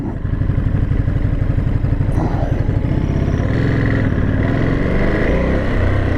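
A 2022 Ducati Monster 950 set in touring mode pulls away, its engine loud and close, rising steadily as it accelerates through a rough, pulsing mechanical roar.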